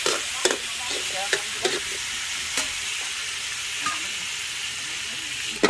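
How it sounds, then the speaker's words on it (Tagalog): Squash sizzles in a pan while a utensil stirs it for a dish of crab and string beans cooked outdoors on a farm, with a steady frying hiss broken by several sharp scrapes and knocks, close and quiet. "At halu-haluin."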